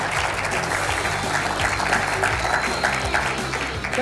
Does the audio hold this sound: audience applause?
yes